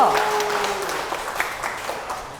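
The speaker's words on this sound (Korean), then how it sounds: "박수 다시 한번 보내주시고요" Attendees at a resident-autonomy lecture give a short round of applause right after group chanting; a voice sounds at the start, then the clapping thins and fades out quickly.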